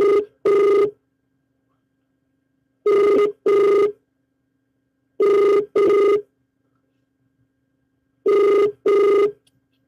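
A telephone ringing unanswered, four paired double rings evenly spaced with silence between them, clear and close with no other sound.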